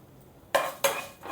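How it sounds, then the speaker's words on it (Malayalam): Fenugreek and spices stirred in a pan with a metal spoon, giving two sharp scraping clatters in quick succession and a softer third, close by and otherwise quiet. "ഒന്ന് ഇളക്കി കൊടുക്കാം."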